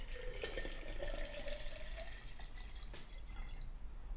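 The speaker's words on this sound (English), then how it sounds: "as I pour the water in" Water is poured into a jar during a children's lesson, a light trickling and dripping splash running for several seconds at low level with a faint background hum.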